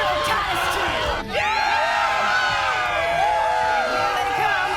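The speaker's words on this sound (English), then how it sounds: "Let's have a cheer for Titus 2!" A crowd cheers and whoops loudly in the video game Borderlands 3 as a dense, sustained roar of many voices with overlapping yells, close and continuous.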